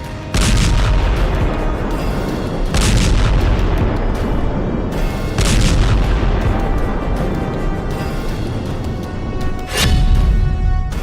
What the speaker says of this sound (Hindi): गाजा पर सैकड़ों किलो का बम जब गिरता है तो ऐसा धमाका होता है